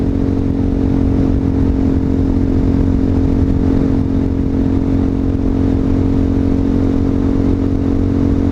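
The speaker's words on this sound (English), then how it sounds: "This bike sounds really throaty since I took out the baffle." A Honda Hawk 250 motorcycle with its exhaust baffle removed idles loud and close, a throaty, steady engine drone with constant low harmonics and no talk.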